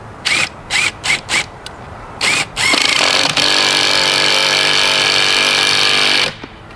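A hammer drill drives a screw into wood for a wall mount: several short bursts of the motor, then one long steady run of about three and a half seconds, loud and close, with no talking.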